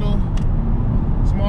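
A 2024 Toyota GR Corolla Core Edition drives along a road, its engine and road rumble forming a steady, loud low drone throughout, with a voice speaking over it.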